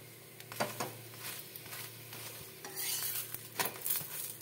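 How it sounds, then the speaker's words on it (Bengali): Methi shak paratha frying in white oil on a pan, with a soft sizzle under intermittent scraping and stirring clatter from a utensil against the pan, several sharp taps and a louder burst of sizzle partway through. "এইভাবে আমি সব পরোটাগুলোকে সেকে নেব।"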